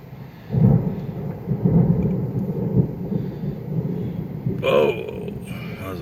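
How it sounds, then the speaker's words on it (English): Thunder booms and rumbles through a storm in Port St. Lucie, Florida, heard from inside a car with rain pattering. Two heavy rolls come early, followed by a sharper crack near the end. "There's a crazy storm going on"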